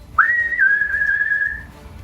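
A single sustained human whistle imitating a steam engine or tea kettle, rising sharply then holding a steady high pitch for about a second and a half before tapering off, heard alone and close.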